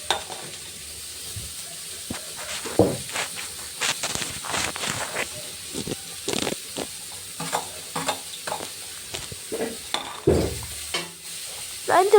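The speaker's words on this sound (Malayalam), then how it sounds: "എന്നിട്ട് നന്നായിട്ട് ഇളക്കി കൊടുക്കാം." Onion, garlic and ginger fry in oil in a pan while a utensil stirs them, giving irregular scraping strokes over a soft sizzle, close and moderately loud with brief pauses between stirs.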